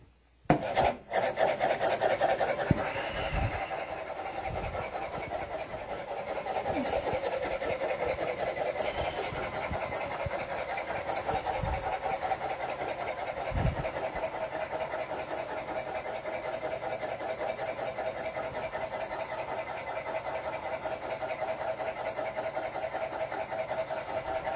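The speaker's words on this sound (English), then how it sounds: "Now I'm going to start the motor up and run it for 1 hour." A homemade gap motor, an electric motor built around a coil and magnets, starts up with a few sharp knocks and then runs with a steady, fairly loud mechanical hum and whir, heard alone.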